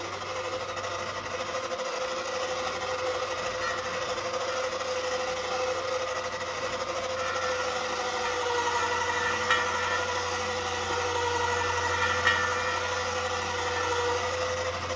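A homemade jig spins a Jeep CJ7 rim for pinstriping with a Beugler tool, giving off a steady mechanical whir with a faint hum underneath that runs unbroken and alone throughout.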